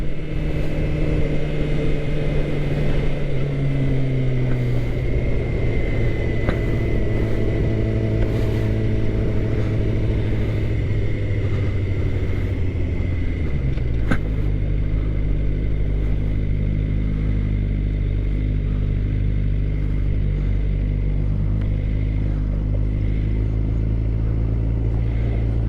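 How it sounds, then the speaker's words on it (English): A 2013 Suzuki GSX-R 600 sport bike runs in second gear, its engine note holding high and steady, then dropping lower partway through. The note comes from close by, continuous and loud, with no voices. "that's another thing about this bike, it revs high"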